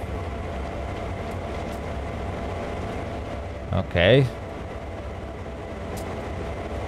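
A train rolls on rails in Train Sim World 2 on the Sand Patch Grade, a steady low rumble and hum with faint clicks, briefly under a short spoken word.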